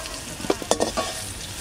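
Spices and onion stirred and frying in a pan for a village-style mrigal fish curry, with a few distinct stirring scrapes over a soft steady sizzle, brief and close.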